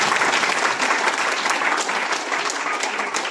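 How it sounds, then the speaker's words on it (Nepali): An audience at a DXN Nepal motivational event breaks into loud, sustained applause, dense clapping from many hands that holds steady from start to finish. "अरे ताली ठोक्नुस् न।"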